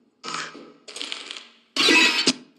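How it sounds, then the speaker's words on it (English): In the video game Lethal Company, a landmine triggers with a few sharp mechanical clicks and beeps, then a loud burst, three separate close bursts with no talking. "That was a mine."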